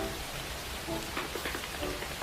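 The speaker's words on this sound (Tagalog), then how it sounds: "O mga pre, lumakas na yung ulan." Heavy rain falls steadily outdoors, a dense, even hiss of drops with faint patters throughout and no voices.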